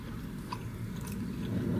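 Someone chews barbecue ribs close up, a moist, steady mastication with soft crunchy bites and no talk.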